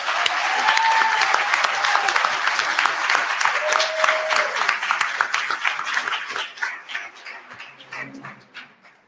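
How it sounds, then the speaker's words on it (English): An audience at a board meeting applauds in a loud, dense burst of clapping that gradually thins and fades out toward the end, with a few faint voices underneath. "Give yourselves a round of applause."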